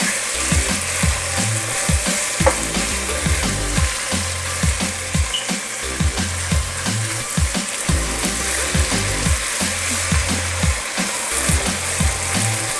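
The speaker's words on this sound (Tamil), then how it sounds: "அந்த இஞ்சி பூண்டு வாசம் வர்ற வரைக்கும் கொஞ்சம் வதக்குங்க" Ginger garlic paste sautéing in a pan, a steady close sizzle with repeated low scraping and stirring strokes throughout, no voices.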